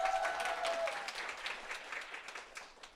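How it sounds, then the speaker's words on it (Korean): An audience at an evening business lecture applauds and cheers, a dense wash of clapping that starts loud and gradually thins out, with no speech over it. "이렇게 환호해 주시니까 정말 너무 기분이 좋네요"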